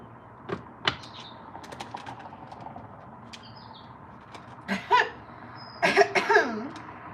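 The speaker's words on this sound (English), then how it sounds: "I really think it's so obnoxious to keep coughing like that" A person coughs in short bursts, a couple of quick coughs early on, then a louder fit of several harsh coughs near the end.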